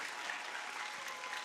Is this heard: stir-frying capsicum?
no